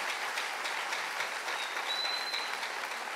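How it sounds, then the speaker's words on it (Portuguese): A church congregation applauding, steady soft clapping that fills the room at a moderate distance, with a faint thin tone briefly audible partway through. "aplauda o Senhor"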